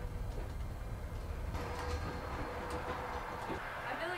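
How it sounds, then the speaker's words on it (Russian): A Trans-Siberian train runs, heard from the passage between two carriages: a loud, steady rattling rumble with metallic clanks, squeaks and brief clicks of the joints, and no voices. "мы сейчас прямо между двумя вагонами"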